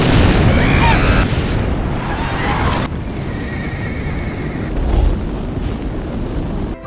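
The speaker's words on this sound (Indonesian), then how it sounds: "Dan saat pasukan Kra sudah mendekat, Leo meledakkan Oberon." A deep explosion booms in a battle scene from the 2001 film Planet of the Apes, a broad burst of rumble mixed with loud horse whinnies and hoofbeats.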